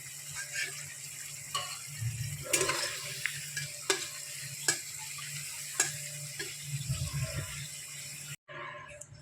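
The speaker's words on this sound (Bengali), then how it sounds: "আলুগুলো ভাজা হয়ে গেছে" Potatoes frying in a pan with a low sizzle, broken by sharp scrapes and knocks of a spatula turning them, close by and without talk.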